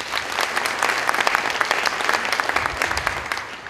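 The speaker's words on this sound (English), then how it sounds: "Show of applause if you think it's blue." A large conference crowd at a skeptics' gathering breaks into loud, dense applause, sustained clapping from many hands filling the room evenly from start to finish without speech.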